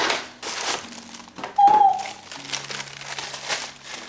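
Paper crinkles in short rustling bursts while a Longchamp order is unboxed, close to the microphone, with a brief tonal squeak midway and quiet handling noise between the crinkles.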